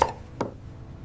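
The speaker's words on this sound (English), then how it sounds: "I chop carrots." A knife chopping carrots on a board, three sharp separate knocks about half a second apart, close and clear in an otherwise quiet kitchen.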